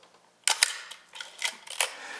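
A Nikon F2A film camera shutter fires several times in quick succession, each release a crisp, close mechanical clack with no voices.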